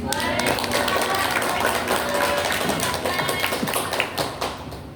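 Audience applause after a performance in a children's storytelling contest, dense steady clapping from a crowd filling the whole stretch at even loudness, with a few voices faintly under it.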